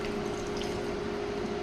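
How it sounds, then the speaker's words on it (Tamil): Steady splashing of water being poured into a pan of soya pepper gravy, a continuous close gush with no talking. "திருப்பி ஒரு 1/2 டம்ளர் தண்ணி சேர்த்திக்கலாங்க."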